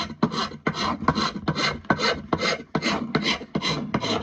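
Rasp strokes scraping material from a new hickory axe handle, about ten even back-and-forth passes in a steady rhythm, close and loud with no talk.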